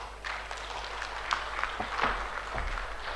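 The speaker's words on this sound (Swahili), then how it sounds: "Asante, makofi mengine mengi kabisa." An audience of secondary school head teachers claps at their national general meeting after a speech ends. The scattered, fairly soft applause continues with uneven individual claps standing out from a diffuse background.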